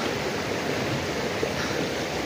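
A jungle creek flows steadily nearby, a dense, continuous rush of water with no breaks and no voices.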